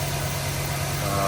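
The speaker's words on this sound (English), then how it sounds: "This is a cold start." A 1992 Chevrolet Camaro Heritage Edition convertible idles just after a cold start, giving a steady low rumble with a constant pulse, close and under brief talk.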